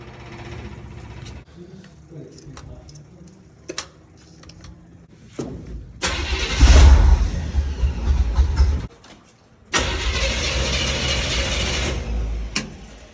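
An engine with a newly installed ignition in an International Harvester vehicle cranks over in two loud, rough stretches separated by a brief pause, following a few quieter clunks and knocks.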